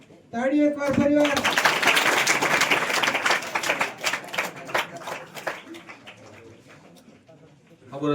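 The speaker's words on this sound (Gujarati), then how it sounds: "તાળી એક વાર ફરીવાર।" Audience clapping at a welcome ceremony for a district police officer, a dense burst of applause that swells for several seconds and then thins out, with a voice speaking briefly at the start.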